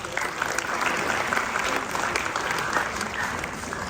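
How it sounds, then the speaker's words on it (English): Evening audience applause for children's devotional performance at an annual cultural event, a full, continuous patter of many clapping hands at steady volume from start to finish. "Let's give them another round of applause"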